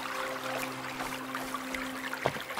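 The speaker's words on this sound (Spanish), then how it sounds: "Hay una cascada ahí." A waterfall beside a river in the video game Sengoku Dynasty gives a soft, continuous trickling wash under a steady low hum, with a brief clatter near the end.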